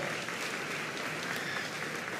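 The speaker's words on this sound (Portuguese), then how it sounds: "você pode aplaudir a Jesus por isso?" A church congregation breaks into applause during a sermon, a steady even wash of many hands clapping from the room, fairly soft and continuous throughout.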